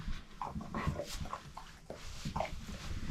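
Indoor dog making soft whimpering and panting noises, close and fairly quiet, with short whiny bursts over steady breathing and no talking.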